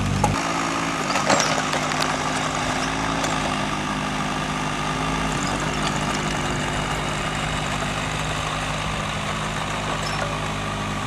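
Heavy diesel digger working a lawn site, its bucket spreading and blending soil into sand: a steady, loud low engine drone runs throughout, with faint scraping and clanks over the top and no talk.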